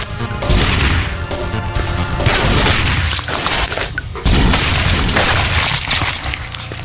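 Rocket explosions in the flash game Thing Thing Arena, dense loud blasts and crashing booms layered over game audio, one after another without pause.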